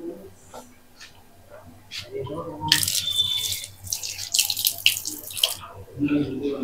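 A water tap runs while hands are washed, a close splashing gush that swells in the middle and comes in bursts, with soft voices and background noise around it.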